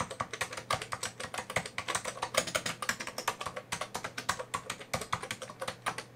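Steady, fast typing on a vintage BTC 5100C PS2 computer keyboard, close and clear, with a continuous run of sharp key clicks in an uneven rhythm and no voices.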